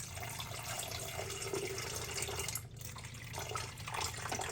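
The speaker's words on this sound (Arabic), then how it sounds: "في عندي فتحتين او مكانين لصب الميه، وابتدي اصب الميه كده" Water pours steadily into the reservoir of a drip coffee maker, a continuous running splash with no voices.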